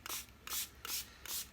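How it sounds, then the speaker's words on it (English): A small Dollar Tree plastic spray bottle mists pure lemon juice onto a food dehydrator tray in four quick, close hissing bursts spaced evenly apart, with no talking. "I am going to spray it with some pure lemon juice"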